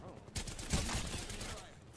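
Rapid bursts of Wingman pistol fire in Apex Legends, several sharp loud shots in quick succession with gritty impacts and game effects, a voice murmuring faintly underneath.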